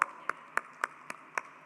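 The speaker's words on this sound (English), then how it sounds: "A big round of applause to everybody here on the hall." Hands clap in a university hall with sharp, evenly spaced claps about four per second, fairly faint and sparse rather than a full roar of applause.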